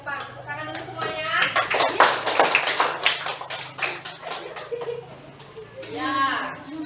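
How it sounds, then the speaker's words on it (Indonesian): Children in a classroom clap their hands together in a burst of uneven, lively clapping mixed with excited young voices, fading toward the end as a teacher speaks. "Tepuk tangan dulu semuanya."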